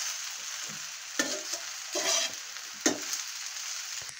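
Veg hakka noodles are stir-fried in a hot pan with tongs: a continuous close sizzle broken by several brief louder bursts of scraping and tossing, with no talking.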